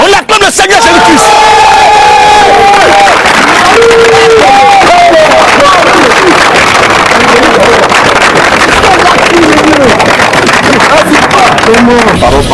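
A large church congregation cheers and shouts acclamations at a worship gathering, a loud, dense roar of voices with calls and chanting rising over it, continuous and close, with some wind buffeting.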